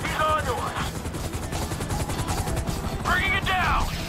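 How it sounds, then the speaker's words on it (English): In GTA 5, a helicopter drones steadily under bursts of gunfire, loud and close, with frantic overlapping voices over the chaos. "MIB chopper, he's on to us!"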